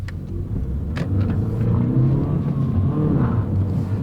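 A Honda car accelerating on the road, a steady low engine rumble and road noise rising slightly as it picks up speed, heard from inside the car with no talking.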